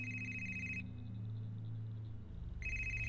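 A cell phone ringtone plays close and clear in short repeated electronic tones, pausing briefly in the middle before the ringing resumes.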